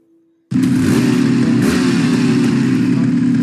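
Motorcycle engine in a Poki bike video game, a loud, steady buzzing drone that starts abruptly after a brief quiet moment and runs without a break.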